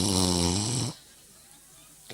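A storyteller vocally imitates an old man snoring, one long drawn-out rasping snore with a strong harmonic buzz, close and loud, followed by near silence.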